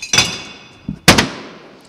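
Glass bottles thrown into a green bottle bank for recycling, giving two loud, close crashes of glass on glass about a second apart, each ringing briefly, with a small clink between them.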